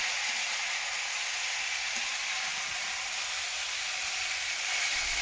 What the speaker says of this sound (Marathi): आता मी बाकीच्या ज्या भाज्या आहेत त्या भाज्या मी आता कढईमध्ये टाकून दोन्ही भाज्या छान मिक्स करून घेते